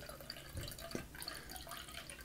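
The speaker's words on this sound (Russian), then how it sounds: "Продолжаю наливать и смотреть, что будет дальше." Wine trickles and drips steadily into a Pythagorean cup, a continuous close liquid pour with faint splashes and no talking.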